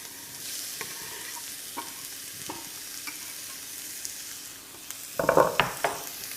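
Onions fry in olive oil in a pan, a steady soft sizzle close by with a few light clicks, and a louder burst of crackling near the end as more goes in or gets stirred.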